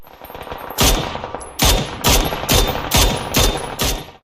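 Loud rapid Mini 14 rifle gunfire in the video game PUBG, six sharp shots in an even, quick rhythm with a short echoing tail after each, heard alone.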